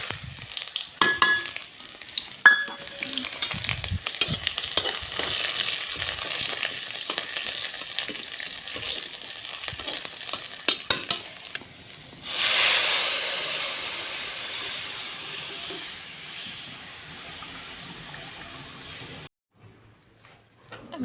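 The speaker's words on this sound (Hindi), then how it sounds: "अब देखो कढ़ी तो मैंने छोंक दी है ये।" Spices for kadhi hit hot oil in a wok over a clay stove and crackle with a close, steady sizzle, mixed with stirring clatter. A loud burst of hissing steam rises partway through, and then the sound cuts off.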